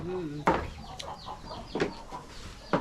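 A chicken clucks in short bursts with soft calls between them, moderately close, with a few sharp knocks and faint voices in the background.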